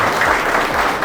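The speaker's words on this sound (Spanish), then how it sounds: "Un aplauso para nuestro hermano Cipriano" An audience at a cultural forum in Cabrera applauds, a loud, dense wash of clapping that fills the short moment without letup.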